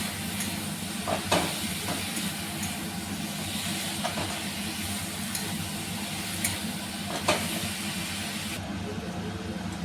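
Mushrooms with tomatoes cooking down in a pan for a village-style mushroom curry, producing a steady hiss of steam with soft occasional clicks, continuous and fairly even throughout.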